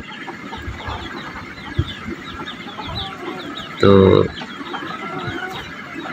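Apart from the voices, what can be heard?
chickens and rooster clucking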